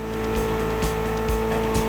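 Mitsubishi inline four-cylinder of about 280 horsepower in the racing game The Crew Motorfest, a loud, steady engine drone with quick repeated pops or tire chirps, close up.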